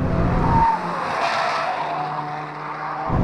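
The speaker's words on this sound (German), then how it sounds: "Jetzt anbremsen auf die Kurve zu." A VW Polo GTI with a DSG gearbox brakes hard into a curve after running near 180 km/h. The close, loud engine roar cuts off abruptly, leaving a rushing tire and wind drone, and the engine swells back right at the end.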